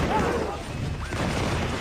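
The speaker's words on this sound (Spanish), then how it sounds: "Los mosquetes españoles respondieron con suma eficacia todas las ofensivas británicas." A volley of Spanish muskets fires as a dense, rolling burst of overlapping shots and crashes, loud and close, with a voice speaking underneath the gunfire.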